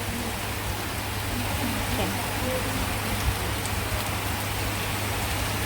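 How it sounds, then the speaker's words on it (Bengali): Dense, steady hiss of heavy rain pouring down without pause, with a low hum and faint voices underneath. "খুবই জোরে জোরে বৃষ্টি হচ্ছে"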